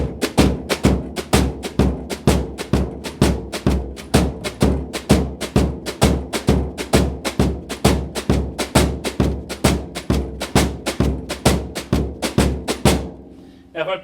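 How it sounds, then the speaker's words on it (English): A shuffle pattern played with brushes on a snare drum, a steady swung rhythm of soft, even hits with low thumps underneath, close and alone for the whole stretch. "here's what it would sound like doing the shuffle and snare sound"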